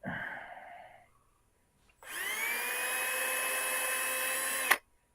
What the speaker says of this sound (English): Let me drill those right now.